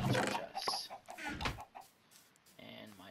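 Chickens cluck inside a coop in the Minecraft video game, several short, close clucks and squawks in an uneven rhythm, with a person talking between them.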